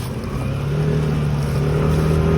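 A motorcycle is being ridden, its engine giving a steady, close, droning hum that holds throughout with little change.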